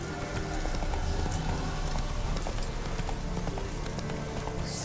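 The horse Roach's hooves in the video game Witcher 3, a steady galloping clip-clop over a dense, continuous backdrop of game ambience, loud throughout with no talking.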